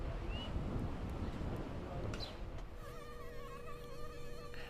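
Mosquitoes in McAllen make a thin, high whine that starts under breezy, rustling noise, then settles into a steady, close buzz that drones on alone to the end.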